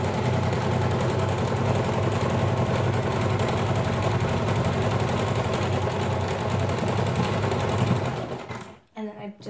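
A sewing machine stitches fabric along the edge of a DIY baby car seat canopy cover. It runs close and loud, a continuous rapid mechanical rattle for about eight seconds before it stops abruptly.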